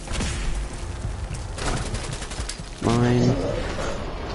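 Gunfire in Fallout 4, a mix of rapid shots and bursts with a heavier blast near the end, loud and close, with a voice talking over it.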